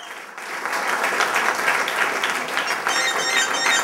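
A crowd at a record store in-store event in Minneapolis claps and cheers in a steady, close burst of applause lasting several seconds.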